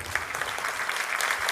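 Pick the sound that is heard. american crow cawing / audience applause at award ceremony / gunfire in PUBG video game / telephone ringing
audience applause at award ceremony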